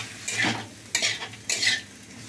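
Watermelon rind stir-fried in a pan until dry, three bursts of sizzling as the spatula pushes the pieces around, quiet between strokes, no voices.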